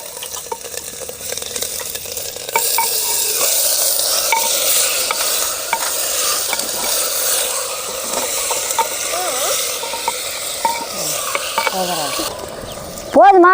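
Goat mutton pieces frying and being stirred in a hot pan of groundnut oil with ground ginger-garlic paste, a steady close sizzle with scraping stirs throughout and a brief louder clatter at the end.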